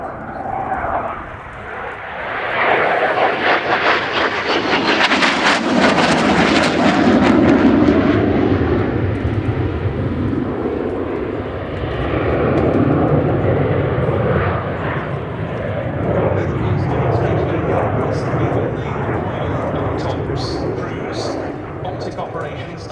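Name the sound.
Spanish Navy EAV-8B Harrier II+ jet flying display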